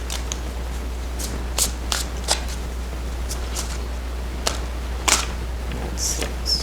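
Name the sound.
tarot cards being shuffled and drawn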